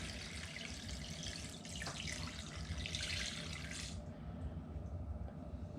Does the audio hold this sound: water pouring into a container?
yes